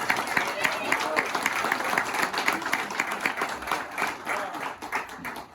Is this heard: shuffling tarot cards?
no